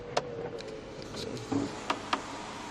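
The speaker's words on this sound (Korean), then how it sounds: "썬루프 지금 레일 쪽에 뭐 하나 낀 소리 없이 잡소리 없이 정말 작동 잘하고 있고요" Sunroof of a used fourth-generation Mercedes-Benz E-Class E300 Elegance opening and closing: a quiet, smooth motor hum inside the cabin, broken by a few faint clicks and thumps.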